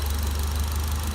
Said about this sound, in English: we're just going to keep the engine on higher revs and clean this through as it goes